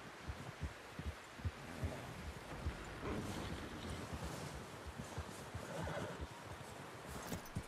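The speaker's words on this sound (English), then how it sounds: "Someone help John down off this horse." Horse whinnies and hoof clops from a horse in the western video game Red Dead Redemption II, with repeated low thuds and a busy, noisy background at moderate loudness.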